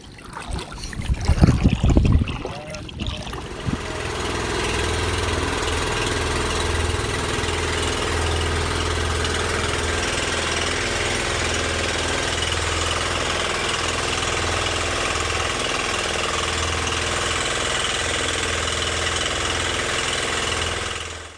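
A boat engine idles steadily at close range, a low rumbling drone holding constant after a brief burst of handling noise at the start.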